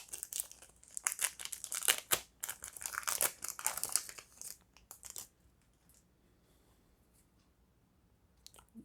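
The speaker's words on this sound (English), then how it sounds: "Hope this one isn't as hard to open as some of the other packs I've had on here." Crinkly plastic foil of a Dragoborne trading card booster pack being torn open: close, busy rustling and crackling bursts for about five seconds, then near silence.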